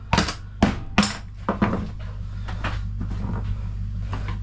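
A fiber optic splice closure being pried open after its 7/16 nut is loosened, a few sharp plastic clacks and snaps up close, then a low hum.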